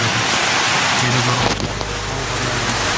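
Steady heavy rain hisses loudly throughout, with a low rumble underneath like distant thunder or passing traffic.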